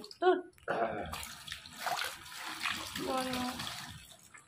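Water is poured from a container in short splashing bursts at close range, mixed with a child's and an adult's voices.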